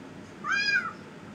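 A single cat gives one clear, rising-and-falling meow lasting under half a second, close and distinct over a quiet background.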